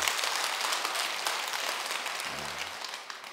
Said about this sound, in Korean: 박수도 한번 치고.